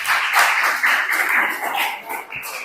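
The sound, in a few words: applause from a class audience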